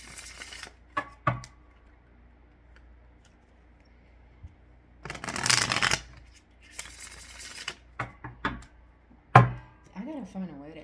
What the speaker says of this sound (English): I gotta find a way to angle this camera so you guys can see me shuffle.